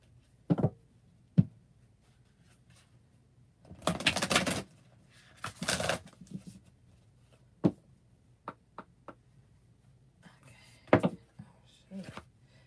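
Tarot cards are shuffled by hand in a quiet room, with two longer rustling riffle bursts among scattered sharp taps and knocks of cards against a surface, some faint talk in the background.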